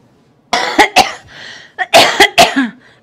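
A person coughs repeatedly at close range, two loud bursts of harsh, throaty coughs separated by a short pause and a hoarse breath, with no speech around them.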